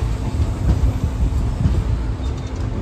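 Sainagar Shirdi–Dadar passenger train (11042) halted at the empty Nimlak station, a heavy low rumble and rolling carriage noise close by, loud and continuous with no voices.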